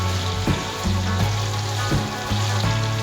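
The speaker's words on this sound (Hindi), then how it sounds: "मसाला जो हमारा अच्छी तरह से भुन गया है" Masala for chicken karahi frying in a pan, a steady close sizzle with low bubbling and a few soft stirring bumps, continuous and fairly loud with no voices.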